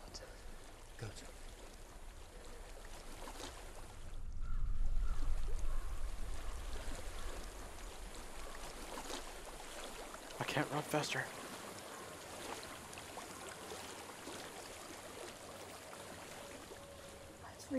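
Flowing stream water in Hellblade runs steadily throughout, swelling louder for a few seconds partway and later sharing the space with a brief spoken line over the constant rushing.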